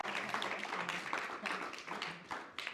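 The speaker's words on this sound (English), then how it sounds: "Seven of a round of applause, please, for our winners, Emma Cunningham and Liam Dunster, everybody" An audience at the final day of a world championship tournament gives a round of applause for the winners, heard as faint, scattered clapping from a distance.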